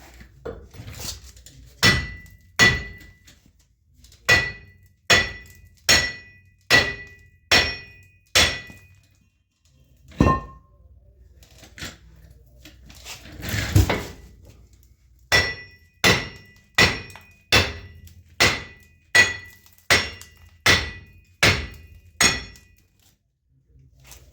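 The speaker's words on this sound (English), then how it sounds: "I'm going to keep kind of smacking it" A hammer strikes a stuck, rusty wheel bearing on a Dana 60 axle again and again in a steady rhythm, loud ringing metal blows with a short pause midway before the pounding resumes.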